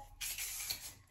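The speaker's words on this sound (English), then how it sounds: "I just spray the back of it" A hair product sprayed from a can gives one close, steady hiss lasting just under a second, with a faint voice briefly before it.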